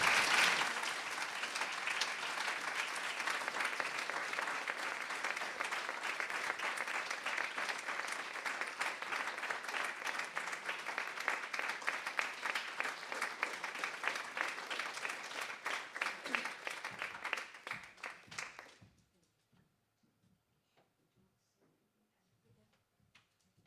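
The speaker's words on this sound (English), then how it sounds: "please give her a big round of applause as she comes to the stage" Loud, dense applause fills a hall at a youth awards ceremony for about eighteen seconds, then fades quickly to near silence with a few stray claps.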